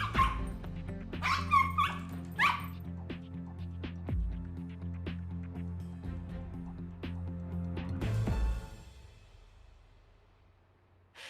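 A dog barks in an agitated, repeated way, with sharp yips and high whimpers over a steady low hum, the outbursts clustered early then easing into quieter whines before fading.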